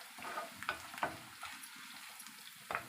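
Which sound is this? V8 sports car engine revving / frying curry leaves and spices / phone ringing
frying curry leaves and spices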